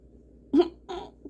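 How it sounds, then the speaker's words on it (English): An adult woman lets out a loud, abrupt hiccup, then a second softer one and a tiny third catch, close to the mic in a quiet room during a makeup tutorial, with no speech. "I think that was my loudest hiccup in a while"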